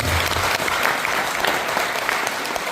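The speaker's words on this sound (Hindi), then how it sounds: "जोरदार तालियां भाई साहब।" Loud, dense applause from a training-session audience in Jaipur fills the whole stretch, steady and close, with no talk over it.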